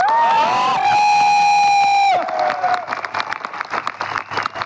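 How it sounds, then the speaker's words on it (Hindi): Audience at a Vijay Rath event for AWPL in Kota bursts into clapping and cheering. A sustained tonal sound comes first, then the crowd noise swells and pulses for the last couple of seconds. "कितनी ताली बजनी चाहिए?"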